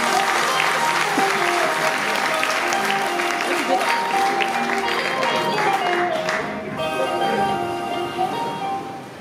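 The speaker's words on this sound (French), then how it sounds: "qu'on applaudit très très fort, s'il vous plaît." Applause from an audience gathered for the delivery of an Air Côte d'Ivoire Airbus A320 in Toulouse: dense, loud, sustained clapping with crowd noise throughout, thinning a little toward the end.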